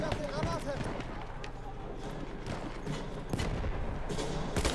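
Shots crack in a multiplayer shooter game, a few sharp bursts scattered through a busy mix of game noise, with a player talking over them.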